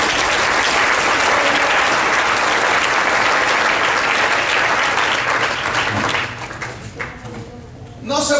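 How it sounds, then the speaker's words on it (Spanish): A church congregation applauds loudly and steadily for about six seconds, the dense clapping then thinning out into scattered claps and crowd murmur. "Denle un aplauso a Cristo."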